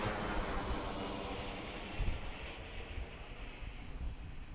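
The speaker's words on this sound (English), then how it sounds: "Watch this one take off already" An airliner taking off at Washington Reagan National Airport roars as a broad, steady rumble, fairly distant and faint, mixed with gusty wind buffeting the microphone.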